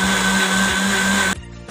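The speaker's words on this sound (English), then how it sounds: "And turn on the blender." A loud, steady motorized whir of a blender running continuously on avocado, water and sugar, then it cuts off abruptly, leaving a faint residual rattle.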